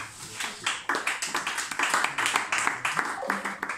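A church congregation claps in rapid, steady acclaim during a worship service, with dense overlapping handclaps continuing loudly throughout.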